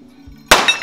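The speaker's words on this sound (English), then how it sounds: "Yet the mix is so energetic that it still actually detonates." A lump of white phosphorus on a bed of oxidizer detonates: near silence breaks into one sudden, loud, sharp crack that rings and decays over a fraction of a second.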